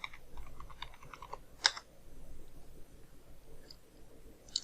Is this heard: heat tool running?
no